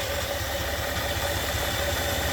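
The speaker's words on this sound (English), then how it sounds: "It still seems to idle okay though" A 1958 Edsel engine with a rebuilt Edelbrock carburetor idles steadily up close, a low, even rumble with a slight rhythmic pulse throughout.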